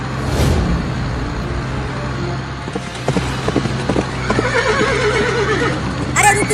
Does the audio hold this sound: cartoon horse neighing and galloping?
yes